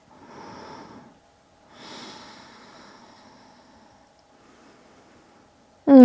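Slow, deep breaths taken while seated in a yoga twist: two soft, airy exhales close to the mic, then a fainter third, against a quiet background with a steady faint hum and a sudden loud sound at the very end.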